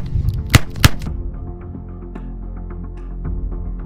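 Korth NXS .357 Magnum revolver fired at a range, two sharp loud close shots in quick succession followed by a quieter lingering ring and faint distant rumble.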